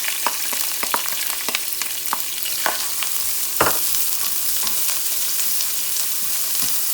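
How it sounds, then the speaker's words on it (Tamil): Chopped onions with cumin and curry leaves fry in a pan, a loud continuous sizzle crackling with many sharp spits and a few louder stirring scrapes throughout, heard close with no voices. "ஸோ இப்போ வெங்காயம் வந்து நல்லா ப்ரௌன் ஆகிற அளவுக்கு நம்ம இதை வந்து வதக்கிக்கலாம்."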